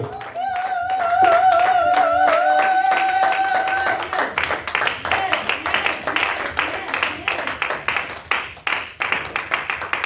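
A church congregation cheers and acclaims Pastor Doudou; a sustained sung or shouted voice leads, then a crowd breaks into loud, rhythmic clapping that carries on steadily.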